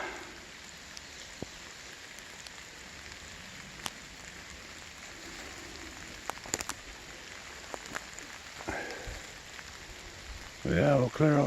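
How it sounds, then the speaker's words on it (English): Light rain patters at an off-grid cabin site during brush clearing, a soft steady hiss with occasional sharper drops and ticks, faint throughout, followed by a brief louder noise at the end. "Can't really do too much when it's raining."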